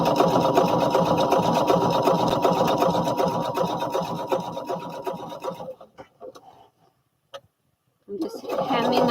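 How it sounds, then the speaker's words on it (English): A sewing machine runs steadily and loud while hemming a pair of pants, then slows into a few halting stitches, stops briefly and starts up again. "I'm just hemming up the bottom of these pants."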